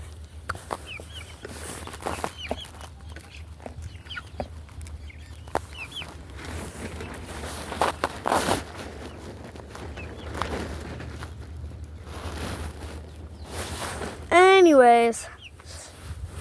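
Backyard chickens cluck in short, scattered bursts, with a louder squawk near the end. A voice speaks briefly under the quiet farmyard sounds.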